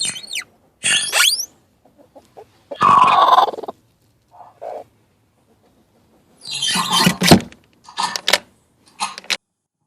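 A broody backyard hen gives bursts of agitated clucking and squawking, loud and close, separated by short silences, with sharper calls clustered toward the end.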